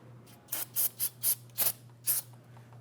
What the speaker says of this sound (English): we're going to go ahead and spray that with some solvent